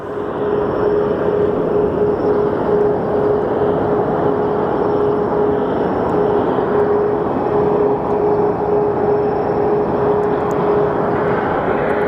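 SkyWest airliner departing Phoenix Sky Harbor, its jet engines producing a loud, steady roar with a sustained whine that holds unbroken throughout.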